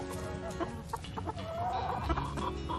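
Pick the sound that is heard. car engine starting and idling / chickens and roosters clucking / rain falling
chickens and roosters clucking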